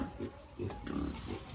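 A pig at feeding time on a farm gives a few short, low grunts in separate bursts, close by and fairly quiet, with no talk over them.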